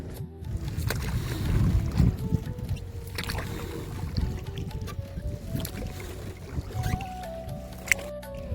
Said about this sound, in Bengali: লেকের মাঝামাঝি আমিও চালাচ্ছি চাপ্পু বোট।